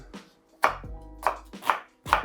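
A knife finely dicing vegetables for cassoulet strikes a cutting board in four or five sharp, separate chops, close and fairly loud, with a low hum between strikes.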